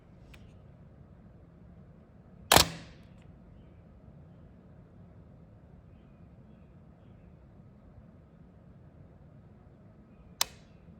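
A Bronica ETRS-i medium-format camera shutter, lens open and film back removed, fires on an 8-second exposure: a sharp mechanical clack opens it, a long quiet pause follows, and a second crisp click closes it.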